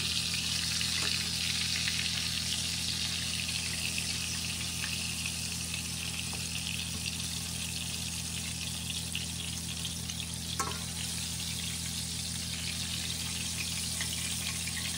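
Chicken pieces for sweet and sour chicken fry in a pan, giving a steady, even hiss of hot oil that runs unbroken at moderate volume, with a faint low hum underneath and no talking.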